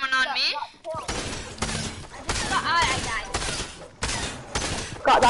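Bursts of gunfire from a shooter video game, including a sniper shot, come in loud repeated volleys with brief gaps, mixed with game effects and a voice talking over them.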